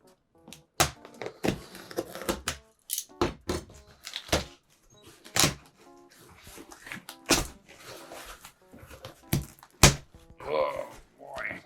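An eBay manga package being opened: a string of close thumps, taps and rustling handling noises from the parcel and cardboard, irregular and fairly quiet, with a few brief voice sounds in between.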